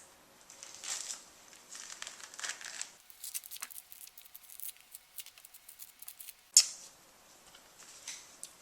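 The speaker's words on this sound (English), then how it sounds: "with hallabongs, you can peel them really easily with your hands" Hallabong oranges peeled by hand, with close, quiet crinkling and tearing rind sounds in uneven bursts, a short pause, then a sharper snap of peel followed by more soft tearing.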